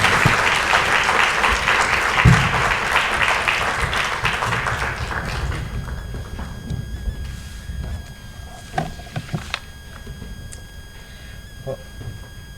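An audience applauds lecture speakers at a university talk, loud dense clapping for several seconds that gradually thins and fades to scattered claps and quiet room noise.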